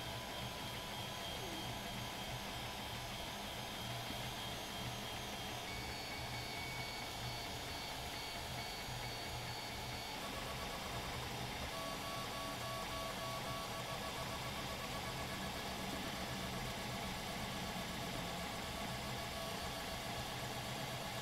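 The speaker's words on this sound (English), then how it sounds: "this is my Printrbot converted to Hypercube, printing at 300 millimeters per second" A Printrbot 3D printer converted to a Hypercube design prints at 300 mm/s, giving a steady, continuous whir and buzz of fast stepper motors that stays fairly loud and unbroken throughout, with no talking.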